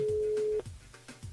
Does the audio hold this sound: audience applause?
no